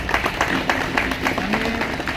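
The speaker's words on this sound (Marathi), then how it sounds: "सरांचं एकदा जोरदार एका टाळ्या होतो" Crowd at a school event applauding and clapping loudly for a teacher, the dense clatter of hands mixed with voices talking over it.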